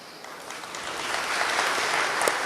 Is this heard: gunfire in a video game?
no